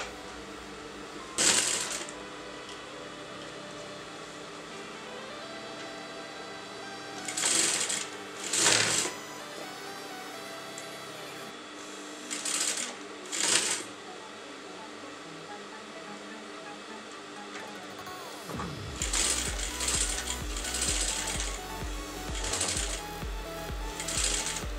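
A sewing machine stitches a fabric seam for a designer blouse in several short bursts, then runs longer and steadier near the end, close and clear over quiet background music.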